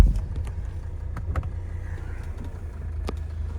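A 1984 Mercedes 300D on the move, heard from inside as a steady low rumble and road drone, with a few faint clicks and rattles on top and no talking.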